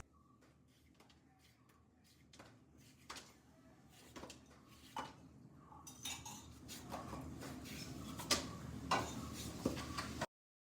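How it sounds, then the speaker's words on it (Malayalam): Knife chopping jackfruit on a cutting board, a run of sharp clicking cuts that start sparse and grow busier and louder, with faint background noise. "അപ്പം നമുക്ക് ആദ്യം അരിഞ്ഞെടുക്കാം"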